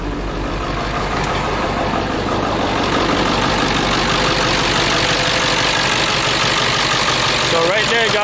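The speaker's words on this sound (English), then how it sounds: "The truck is definitely running." A Ford Powerstroke 7.3L diesel truck engine runs steadily after a crank-no-start repair, a continuous loud rumbling idle close by for about eight seconds.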